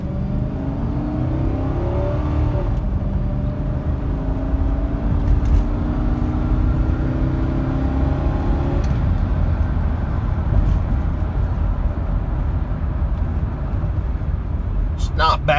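A Ford Expedition SUV with a Triton V8 and four-speed automatic accelerating at full throttle from inside the cabin, engine note climbing in pitch through gear shifts, loud and steady under road noise.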